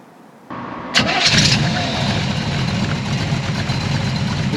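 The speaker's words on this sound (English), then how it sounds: "V8 just fires right up nice and smooth" Small-block V8 in a 1966 Shelby Cobra replica cranks briefly and fires up, settling straight into a steady, smooth, rumbling idle close by, with no voices.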